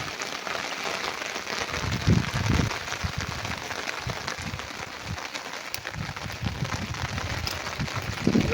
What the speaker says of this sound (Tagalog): Sana tumigil na itong ulan.